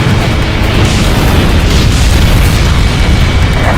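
An enemy transport aircraft shot down in Ace Combat Infinity bursts into a loud, sustained explosion, a dense roaring boom that rumbles continuously with no letup.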